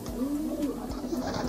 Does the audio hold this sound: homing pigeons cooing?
yes